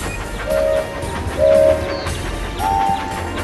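A video game train runs along sharp curving tracks, a steady rumbling ride broken by three short horn toots, one after another, loud and close.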